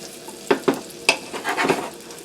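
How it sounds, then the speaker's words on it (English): Onions and pistachio nuts frying in butter and olive oil, stirred with quick scraping strokes and knocks over a close, bright sizzle. "cook this mixture in a little bit of butter and some olive oil for just a couple of minutes"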